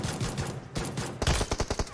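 Rapid gunfire bursts from a shooter video game, a dense fusillade swelling into a series of loud, evenly spaced shots near the end, with no talk.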